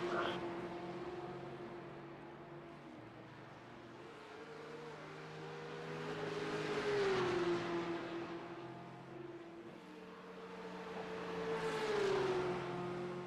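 Porsche race cars in a racing simulator game at Mount Panorama, their engines droning and rising in pitch as they rev and swell closer, then fading before surging again, fairly quiet overall.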